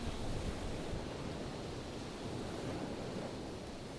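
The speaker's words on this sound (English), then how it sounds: "the most enjoyable thing about being on the beach is just listening to the ocean." Ocean surf rolling onto the beach at South Padre, a steady broadband wash of breaking waves with a faint wind rush, continuous and even without talk.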